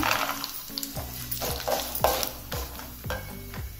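Cashews frying in tempering oil along with urad dal and dried red chillies, a close, crackling sizzle broken by regular metallic scrapes and taps of a spoon against the pan.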